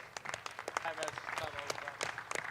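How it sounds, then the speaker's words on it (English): Light audience clapping at a press conference for an international boxing championship in Lahore, fairly faint and scattered beneath a voice speaking over it. "let's give him a big round of applause, please"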